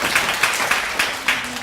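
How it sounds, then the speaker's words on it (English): A short burst of audience applause at a talk or gathering, moderately loud clapping that holds steady for under two seconds. "Wilson, let's give him a round of applause."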